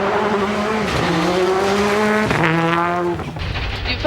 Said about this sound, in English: Drop the clutch, and then if there's a good traction, you just full on the throttle.